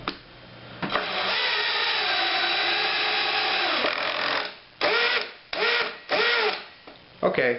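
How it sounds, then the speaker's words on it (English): A cordless drill with its clutch set to 8 drives a screw into wood: one long whirring run of about four seconds, then several short bursts as the clutch clicks and slips, loud and close. "it puts out just enough force to drive the screw into the wood without burying the screw head"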